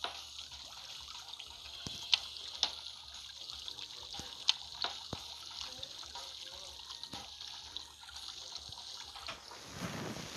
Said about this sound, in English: Move the hose and put objects on the wall to create a path for the water to reach the dog's dish.